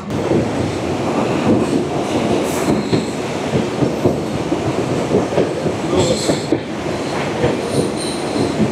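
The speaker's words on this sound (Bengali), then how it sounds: "মালদা টাউন থেকে 35 কিলোমিটার পথ চলা শেষ করে আমাদের অমৃত ভারত এক্সপ্রেস এই মুহূর্তে এসে পৌঁছালো তার যাত্রাপথের প্রথম স্টেশন নিউ ফারাক্কা জংশনে।" The Amrit Bharat Express runs on the rails near New Farakka Junction after leaving Malda Town, with a loud continuous rumble, rhythmic wheel clatter and intermittent high wheel squeals, heard close from on board.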